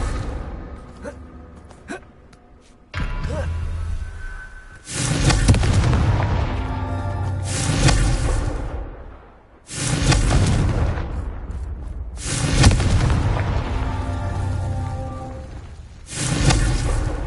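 Confringo blasting spells in Hogwarts Legacy set off a string of loud booming explosions. Four or five big blasts hit at irregular intervals, each one rumbling and crackling as it fades, with smaller pops and clicks between them.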